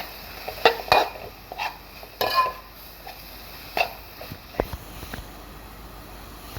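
Tomato with chilli, pepper, coriander, turmeric and garam masala powders being sautéed in a pan, heard as scattered clinks and scrapes of a spatula on metal over a faint sizzle, close and intermittent with no talking.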